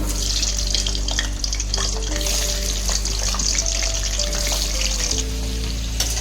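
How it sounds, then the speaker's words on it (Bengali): Potatoes sizzling in hot oil in a wok for a Bengali chicken and potato jhol, a steady loud frying hiss with a faint low hum and occasional clinks, close up and continuous. "তেল গরম হয়ে গেছে, এবার আলুগুলো আস্তে আস্তে আমি দিয়ে দেবো তেলের উপরে"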